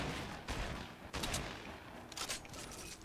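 Gunfire from the video game Fortnite, several quick, muffled bursts of shots at fairly low level, spaced irregularly over a few seconds.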